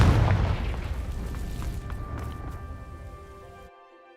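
Confringo fire spell set off against dry vines in Hogwarts Legacy, a heavy booming burst that crackles and dies away over several seconds before the sound cuts out.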